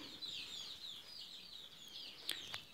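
Newly hatched chicks in a four-section cage chirp continuously in high, thin peeps, with a few sharper calls near the end.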